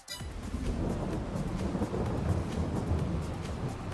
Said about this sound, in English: And just because it's Scotland, now it's raining.